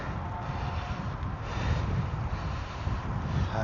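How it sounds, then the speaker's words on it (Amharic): Strong wind buffets the microphone near an airport while cycling in South Korea, a steady loud rumbling roar that swells slightly midway, with no voices. "ከባድ ንፋስ ነው ያለው"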